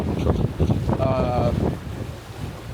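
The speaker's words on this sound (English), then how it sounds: "The wind is increasing, the wave is increasing." Steady wind roaring across the microphone aboard a sailboat at sea in building wind and waves, a continuous broadband rush with gusty swells, briefly joined by a faint tonal whine partway through.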